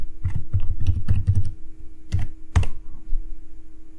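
Typing on a computer keyboard: bursts of close, crisp key clicks in quick runs, a pause, then a few more scattered strokes, with a steady low hum underneath and no talking.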